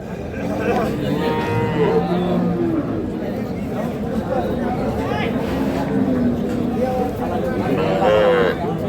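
Cattle, Sahiwal, Sindhi and local dairy cows, moo repeatedly amid a noisy livestock market at Khochabari, with a crowd's chatter and voices filling the background throughout.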